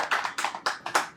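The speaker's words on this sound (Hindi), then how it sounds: "तो एक बार जोरदार तालियां हो जाए हमारे प्रशांत सर के लिए।" Hand clapping in a small room for a teacher at an AC repair course, a few people giving sharp, close, evenly spaced claps in a quick run of about seven beats.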